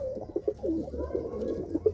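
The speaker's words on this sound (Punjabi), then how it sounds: "ਇਹ ਵੱਡਾ ਕਬੂਤਰ ਆ" Racing pigeons in a loft, a large cock bird among them, coo in soft, low, rolling bursts repeated several times at close range, with a steady low hum underneath.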